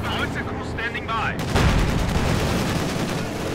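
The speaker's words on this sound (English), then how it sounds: "Here we go, artillery firing. Light artillery barrage at your command." Light artillery barrage in Company of Heroes 2, a dense rumble of distant shell blasts and gunfire that grows louder partway through, with a voice speaking over the battle din.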